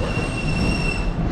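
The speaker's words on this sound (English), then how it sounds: "So the train works." Train wheels squealing on rails in the Garry's Mod video game, a steady high metallic screech over a loud rumbling roar, continuous and close.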